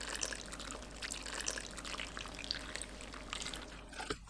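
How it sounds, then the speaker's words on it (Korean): Hot seasoned brine pours over spinach for water kimchi, a soft, close trickle and splash of liquid that runs continuously at low volume and ends with a few drips. "한김 식은 뜨거운 상태 그대로 시금치 위에 부어주세요."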